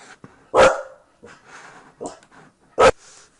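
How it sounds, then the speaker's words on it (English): A pet dog barks three times in a home, loud and close, with short sharp yelps spaced a second or two apart and quiet room sound between. "Ignore my dog."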